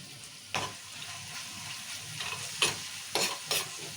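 Turmeric stirred into tomatoes frying in oil for a spiced bottle gourd curry: a steady close sizzle broken by several sharp scraping strokes of a spoon against the pan, with no talking.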